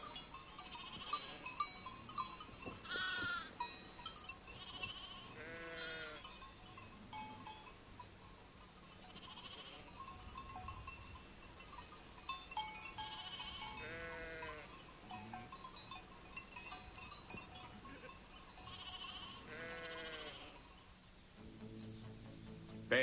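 A flock of sheep and lambs on Sardinian farmland, bleating repeatedly at different pitches and distances, some calls near and others farther off, over a quiet outdoor background.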